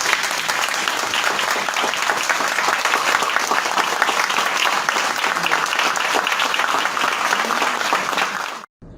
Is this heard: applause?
yes